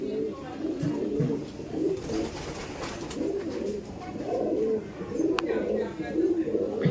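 Kaldom pigeons cooing in a loft, repeated soft throaty coos rising and falling throughout, with a few brief faint chirps and a voice or two in the background.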